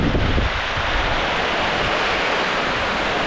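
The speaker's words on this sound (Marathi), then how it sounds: "वारा येतोय" Steady roaring wind with rain buffets the microphone in a Konkan village, a dense continuous rush with low rumbling gusts, loud and unbroken throughout.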